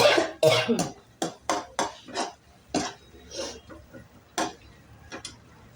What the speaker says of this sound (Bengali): আবারও এটাকে ভালো করে একটু নাড়াচাড়া করে নিচ্ছি